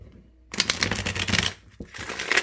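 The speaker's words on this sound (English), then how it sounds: "Sorry about the loudness of the shuffling." Loud shuffling of a tarot deck, close riffling and sliding of cards in a couple of bursts with a brief pause between.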